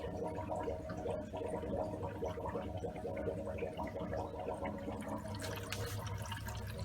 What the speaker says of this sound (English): You can hear that the filter is filling up.